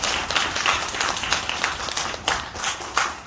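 Congregation at a Sunday Buddhist dharma service in a Haeundae meditation hall gives a round of applause, steady overlapping clapping from many hands for a few seconds.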